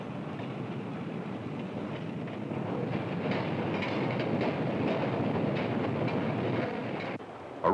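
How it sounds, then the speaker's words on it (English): A city rapid transit train runs along its tracks with a continuous rumbling clatter that grows slightly louder, then dips just before the end. "It's called a rapid transit train."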